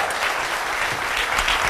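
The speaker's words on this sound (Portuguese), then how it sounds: "Um aplauso para a Carolina." Studio audience on a Portuguese TV show applauds steadily and loudly, a dense wash of clapping throughout the short moment.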